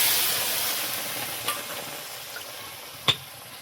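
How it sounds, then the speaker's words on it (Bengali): A pan of mankochu curry sizzles with a steady hiss that slowly fades as water goes in, broken by a couple of sharp clinks from a utensil, with no talking. "পরিমাণ মতো জল দিয়ে দেবো।"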